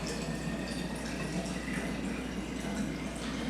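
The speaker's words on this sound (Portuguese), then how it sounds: "Até encher a garrafa." Filtered well water is poured into a bottle to fill it, a steady, soft trickling and gurgling that stays constant throughout, close and fairly quiet.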